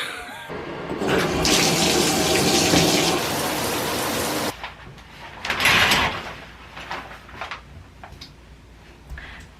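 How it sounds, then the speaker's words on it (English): A home shower runs with a loud, dense spray hiss for about four seconds, then stops abruptly. Softer clatter and water drips follow, including a brief louder splash near the middle. "I want to get into the shower now and everything"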